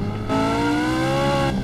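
A car pulls into a parking spot in the Gangster Vegas video game, its engine droning in a steady tone that rises slightly in pitch before cutting off abruptly, with no speech.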